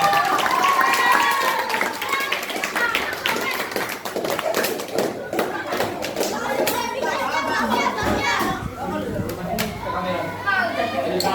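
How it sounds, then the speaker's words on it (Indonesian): Schoolchildren in a fifth-grade class clap for a group after its history drama performance, scattered clapping mixed with lively children's chatter and shouting throughout. "tepuk tangan untuk kelompok 1"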